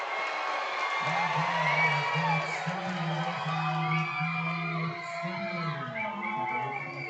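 A crowd of over four thousand cheers at an Evansville Otters baseball game after a home run, a distant sustained roar with whoops over it and a low steady hum underneath. A broadcaster talks over the noise.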